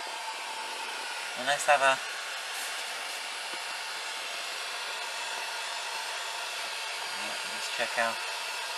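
A heat gun on its single heat setting warms a Range Rover leather seat, giving a steady, even blowing whoosh throughout, with someone speaking briefly near the start and end.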